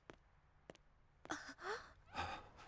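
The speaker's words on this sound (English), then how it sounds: "Anime breathing noise." Exaggerated anime-style breathing from a character in the Inazuma Eleven football video game: a few short sharp intakes followed by two heavy, drawn-out panting sighs, close and fairly soft.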